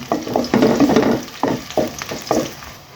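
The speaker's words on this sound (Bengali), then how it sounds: "আমার পেঁয়াজটা একটু ভাজা হয়ে এসেছে" Chopped onion fries in hot oil with bay leaves, cardamom and cinnamon, giving a close sizzle broken by several distinct bursts of stirring and scraping in the pan.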